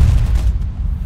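An enemy ship explodes in the naval video game Age of Water, with a loud, deep rumbling boom that fills the whole short moment.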